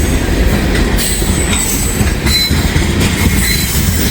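A freight train rolls steadily past at Middletown, a loud, continuous rumble of wheels on rail with faint squeals and rhythmic clatter, close by and without pause.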